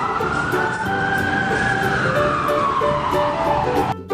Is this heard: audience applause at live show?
no